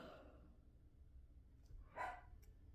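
A pet dog barks faintly in the background of a home, one brief yelp standing out about two seconds in over a low, steady room hum.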